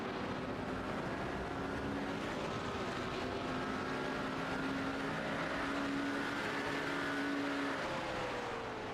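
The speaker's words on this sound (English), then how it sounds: "Oh, that's the safety car." Safety car driving around the track during a 24-hour endurance race, a steady continuous engine drone with broad wind and road noise, moderately close and unbroken for the whole stretch.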